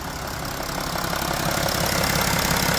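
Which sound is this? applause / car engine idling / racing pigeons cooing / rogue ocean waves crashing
car engine idling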